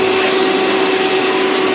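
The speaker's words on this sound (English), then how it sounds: "you can get a vacuum in here with a tube on the end and just vacuum everything out" A vacuum cleaner fitted with a tube attachment runs steadily while cleaning out a car's roof seal track, a loud, even whine heard up close for under two seconds before cutting off.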